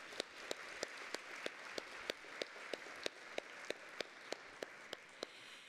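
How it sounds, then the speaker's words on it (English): Audience applause for Dale at a 2023 women's luncheon, faint and steady with a sharp, evenly spaced clap or tap ticking through it, no talk. "please, a round of applause for Dale"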